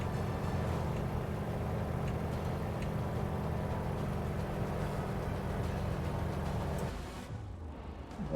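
Airplane engine in Microsoft Flight Simulator, a steady droning hum with a low tonal throb, continuous and moderately loud before dropping away near the end.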